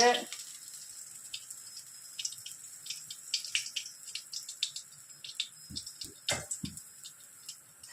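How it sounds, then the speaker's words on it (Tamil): Oil trickles into a frying pan before making chutney, a faint thin pour followed by light drips, small clicks and a few soft knocks near the end. "இந்த வானலில் கொஞ்சமாக எண்ணெய் ஊற்றிக்குவோம்"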